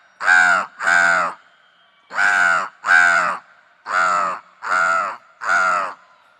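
A stage performer at a science congress cultural program imitates a crow's caw with his voice: seven loud, harsh caws in close pairs and a final group of three, each clearly separated by silence.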